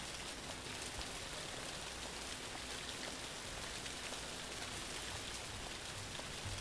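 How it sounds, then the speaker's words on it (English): Rain falls steadily in The Care Giver video game, an even hiss of drops with no pauses and no voices. "And why is the rain still so loud?"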